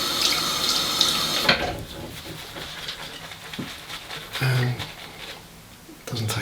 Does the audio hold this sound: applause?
no